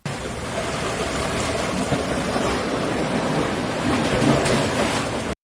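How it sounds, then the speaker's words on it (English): Ocean surf forms a continuous, loud, broadband roar of breaking waves and wash that holds steady for several seconds and then cuts off abruptly. "Royalty-free Waves sound effects."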